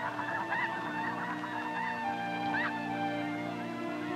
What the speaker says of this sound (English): These snow geese are among the first to arrive, flying up from the eastern coast of the United States.